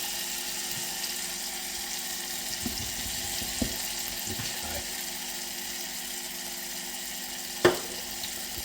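Lamb sauce sizzles and bubbles as it reduces in a pan, a steady soft frying hiss punctuated by a few sharp clinks and taps, with no voices.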